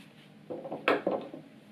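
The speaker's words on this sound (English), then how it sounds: "I can lift the lid off this oil pump" A metal lid lifted off an engine oil pump, heard as a few close, light clanks and clicks of metal against metal with a sharper knock in the middle, in a quiet room.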